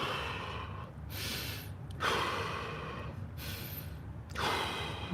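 Deep, slow breaths taken during a hip and middle-splits stretch, two close, audible inhale-exhale cycles with breathy rushes of air and no talking.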